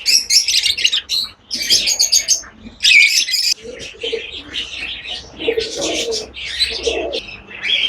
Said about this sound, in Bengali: খুব সুন্দর অস্ট্রেলিয়ান ডাব,